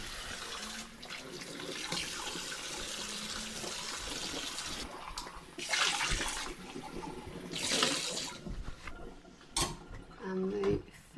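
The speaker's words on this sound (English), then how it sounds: "this is my milk frother, so I'm just going to rinse," A milk frother is rinsed under a running kitchen sink tap, steady water hiss with louder splashing bursts as it is moved under the stream, plus a few clinks near the end.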